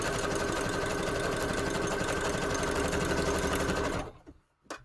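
A sewing machine runs its number 4 stitch on default settings, a loud steady motor whir close by for about four seconds before cutting off, then a brief knock.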